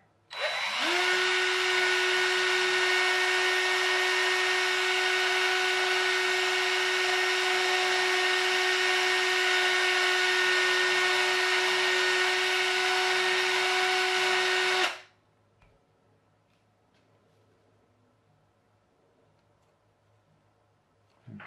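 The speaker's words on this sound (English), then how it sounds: "drill that hole first" A power drill whines steadily at high speed for about fifteen seconds, drilling a hole in a 3D printed helicopter part, close and loud, then cuts off, leaving quiet room noise.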